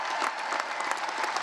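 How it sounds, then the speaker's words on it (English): An audience at a John Jay College commencement ceremony applauds a graduating student, a dense, steady wash of many hands clapping that stays even and full throughout. "Let's give her a big round of applause."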